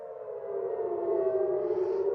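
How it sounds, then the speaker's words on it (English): An air raid siren wails during the Iran war, a steady sustained tone that slowly swells and holds, heard from a distance as a continuous drone with no breaks. "I'm afraid there's an air raid siren going off here"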